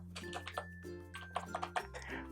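Keys clatter on a computer keyboard while text is typed into a Google Form. The clicks come in short irregular bursts over a steady humming tonal background.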